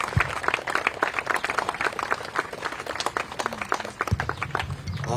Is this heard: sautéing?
no